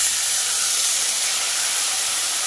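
A pan of frying cumin and dried chilli paste sizzles loudly after a little water is added at the side, a steady, close, bright hiss that continues without a break and with no voices.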